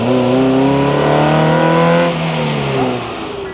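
A Toyota MR-S with an HKS exhaust revs hard and loud up close, its rising engine note climbing for about two seconds before dropping back to a lower idle-like drone.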